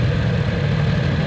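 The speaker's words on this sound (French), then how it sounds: "vous entendez le moteur, ça fait un peu un bruit de V4, hein, ce 4 cylindres en ligne" A 2020 Yamaha R1 inline four-cylinder motorcycle engine idles steadily at a racing circuit, a loud, continuous low rumble with no voices over it.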